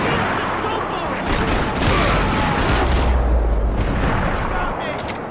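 Dense gunfire from the video game Max Payne 3, bursts of shots and booms layered with heavy rumble, loud and continuous with shouting voices mixed in.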